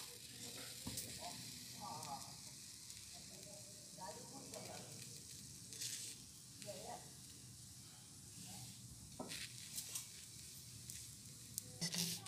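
A stuffed methi paratha roasts on a tawa griddle with a soft, faint sizzle and occasional stirring scrapes, while a person talks quietly over it.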